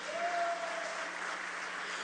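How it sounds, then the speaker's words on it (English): Audience at a political public meeting applauding, a dense, steady wash of clapping heard from a distance, lasting the whole moment without letup. "the Honorable Minister deserves another round of applause"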